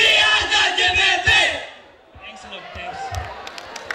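A college dance crew at a retro-themed dance competition shouts its slogan in a loud group chant, a burst of several voices followed by a brief lull and scattered crowd noise.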